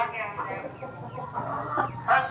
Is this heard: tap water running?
no